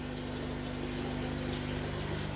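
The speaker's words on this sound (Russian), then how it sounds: "заливаю воды." Water pours steadily into a freshly glued glass aquarium, a constant rushing flow with a low mechanical hum beneath it and no pauses.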